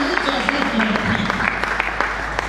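A church congregation at a Christian conference claps and cheers in praise of Jesus, dense steady applause mixed with loud voices calling out together.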